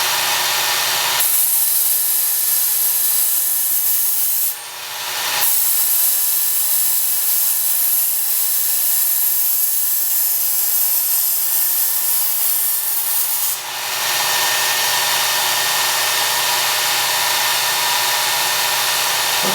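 A knife blade is ground against the coarse belt of a Work Sharp Ken Onion powered belt sharpener, a loud continuous abrasive hiss broken by two brief dips where the blade lifts off.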